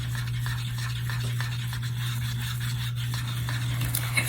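Epoxy resin mixture being stirred in a cup for a small resin lizard craft, a steady soft scraping and swishing close up over a constant low electrical hum.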